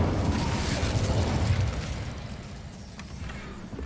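A fire spell cast in the Hogwarts Legacy video game erupts as a loud, roaring burst of flame, a dense rumbling whoosh that is strongest at first and then gradually fades, with no voices over it.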